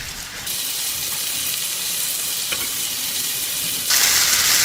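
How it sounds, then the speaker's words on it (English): Garlic and king oyster mushrooms fry in a pan with a steady, close sizzling hiss that continues throughout and swells brighter near the end. "Once you fry it, the garlic will turn to white color."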